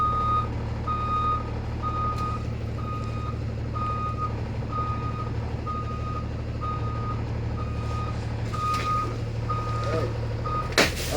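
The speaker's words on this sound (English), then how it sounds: "we'll back the bus back up" A bus backs up with its backup alarm beeping steadily in a regular repeating pattern of about a dozen beeps over a low, constant diesel idle rumble, with a faint clank near the end.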